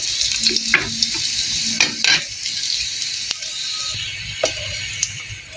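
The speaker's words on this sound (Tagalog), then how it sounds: "Haluin lang natin." Fried rice with garlic and chilli being stirred in a pan: a bright, steady sizzle punctuated by repeated scraping strokes and light metallic taps of the spatula, close and alone.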